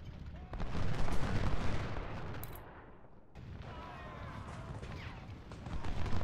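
Artillery fire from the Ultimate General: Civil War battlefield, a dense, heavy barrage of booming cannon with rolling gunfire that fades briefly and then swells again.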